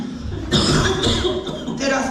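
A woman coughs repeatedly in a hospital ward scene from a stage play, several harsh, close bursts in quick succession with a throaty, rasping quality.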